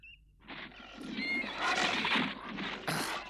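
Horse whinnying in a few bursts, moderately close but fairly quiet, with some rustling and movement noise around it.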